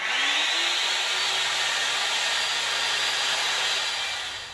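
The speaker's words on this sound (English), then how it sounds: "that was a roundover bit that was in my router" A handheld router fitted with a roundover bit cuts along the edge of a wooden cabinet door panel, a loud, steady high-pitched whine running continuously and tapering off slightly at the end, with no talking.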